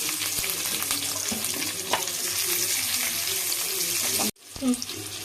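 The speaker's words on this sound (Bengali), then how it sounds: "একটা রসুন ভালোভাবে ভেজে নেব।" Garlic, onion, green and dried chilies frying in soybean oil, a close, steady sizzle with occasional stirring clatter, briefly cut off before resuming.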